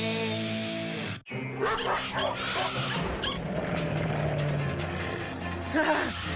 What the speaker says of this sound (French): Gentils les petits chiens maléfiques.